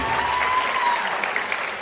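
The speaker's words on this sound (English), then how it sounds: "How about a big round of applause for our dancers?" A high school audience at a stage hypnosis show gives the dancers a brief, dense burst of applause that fills the room for a couple of seconds.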